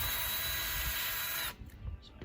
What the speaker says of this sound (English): Pre-drilling holes to get